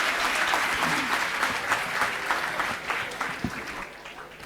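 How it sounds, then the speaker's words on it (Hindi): Steady, dense applause from a large audience at an ICAI business conference in 2023 fills the full stretch, loud and continuous with no clear voices above it. "तो आप सबके लिए तालियां बजनी चाहिए"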